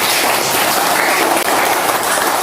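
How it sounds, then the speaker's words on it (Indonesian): A school class claps together on a teacher's cue during a religious studies lesson, producing a loud, dense, continuous wash of hand claps close by for the whole stretch. "Ya, tepuk tangan semuanya."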